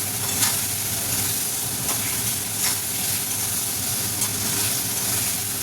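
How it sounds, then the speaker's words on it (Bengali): Pointed gourd is stirred into a spice mixture frying in oil, with a steady close hissing sizzle throughout and a few soft scraping strokes of the spatula. "পটলগুলো দিয়ে আবারও একটু ভালো করে নাড়াচাড়া করে নিতে হবে।"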